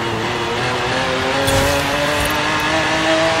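A video-game race car pulls hard from fourth gear, its engine tone rising steadily as it builds speed under poor traction, loud and continuous with a brief burst of tire noise near the middle.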